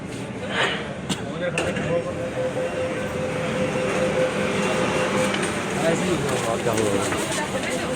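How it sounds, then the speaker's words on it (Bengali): A Kolkata metro train rolls into a Howrah station platform with a steady, loud rumble and rail noise that builds and holds throughout, while people talk in the background. "অলরেডি আমরা যে মেট্রোতে যাব সেই মেট্রোতে অলরেডি চলে আসছে"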